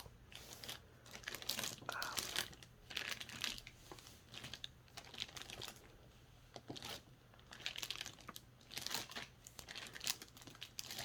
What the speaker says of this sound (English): do some plastic sounds before we take it off